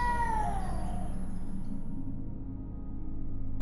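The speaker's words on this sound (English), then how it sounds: "If you've ever heard cats fighting, you'll know it can sound a lot like a baby crying" Cats fight outside with a drawn-out, wailing caterwaul like a baby crying, loud at first, then fading against a low steady hum.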